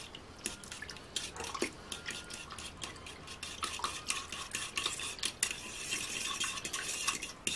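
A utensil stirs fresh yeast and sugar into lukewarm water, scraping and clinking against the bowl in quick, irregular strokes, close and continuous.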